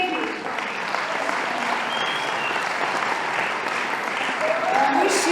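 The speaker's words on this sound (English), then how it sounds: "I think huge applause for Monika, who even finds humor in her journey and makes us feeling great." An audience at a charity ball applauds for Monika: dense, sustained clapping from a large crowd that carries on evenly and swells slightly toward the end.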